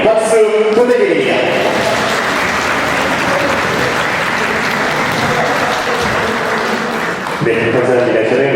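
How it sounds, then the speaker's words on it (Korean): Wedding guests applaud warmly in a convention hall in Incheon as the ceremony begins, a dense, steady wash of clapping that fills the room for several seconds, with an announcer's voice briefly at the start and again at the end. "박수 부탁드립니다."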